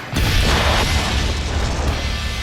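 A loud, sustained blast roars on from the first moment of a water-and-explosives test involving gunpowder, a shark myth and water. It stays dense and rumbling, with no talk over it.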